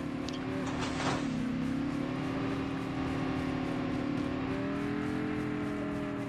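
A motorcycle engine in Call of Duty Mobile battle royale drones steadily nearby with a low, even hum and slight pitch shifts, faint chatter mixed in.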